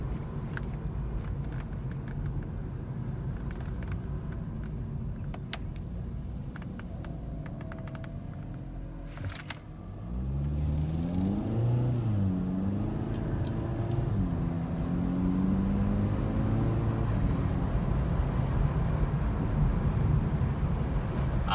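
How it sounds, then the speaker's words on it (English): Steady low hum and rumble inside a 2020 Hyundai Elantra Sport driving at about 30 mph in sport mode, continuous and even, with engine tones rising and falling slightly partway through and no talk. "All you feel is the hum of the engine."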